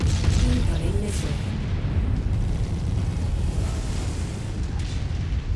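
Missile impact in MechWarrior 5: a heavy, rumbling boom fills the clip with a dense low roar that holds steady and loud throughout, with no speech.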